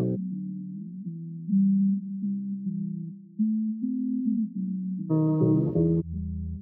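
A synth part from an electronic music mix, pure sine-like tones gliding between low pitches with steady pulsing notes, joined near the end by a brighter burst of layered higher tones before settling low again.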